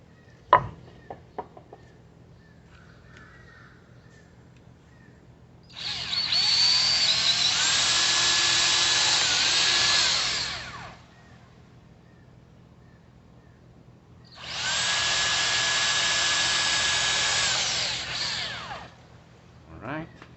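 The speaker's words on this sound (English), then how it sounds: "So I suggest drilling holes in here." A power drill bores holes into a wooden planter board in two sustained whirring bursts of about four seconds each, separated by a quiet pause, with faint small knocks in between.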